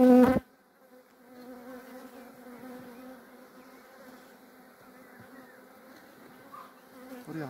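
Honey bees at a hive fill the air with a soft, continuous droning buzz, close and steady, following a brief loud burst at the very start.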